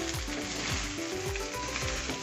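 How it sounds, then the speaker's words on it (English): Rice tossed and fried in a pan over a high flame, a steady sizzle broken by repeated rhythmic scrapes and swishes as the grains are flipped, close and fairly quiet. "Toss it in a high flame. Toss it nicely."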